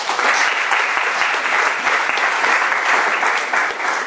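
Church congregation applauding together at a French-language worship service, a dense, steady wash of clapping that holds at full strength for several seconds with no talk over it.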